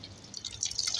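Water splashes and drips as a child washes the face, soft, quick wet slaps and drips close by over a quiet background.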